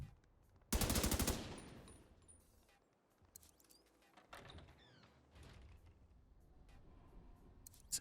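Gunfire erupts in The Division 2 on hardcore mode as a loud, rapid automatic burst up close, followed by fainter scattered shots and clatter amid quieter game ambience, with no speech.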